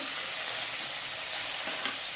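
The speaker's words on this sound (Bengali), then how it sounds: "সবই একসঙ্গে ভাজতে থাকবো।" Vegetables, including capsicum, sizzle and fry in a pan with cashews and raisins, a steady bright crackling hiss with faint stirring underneath.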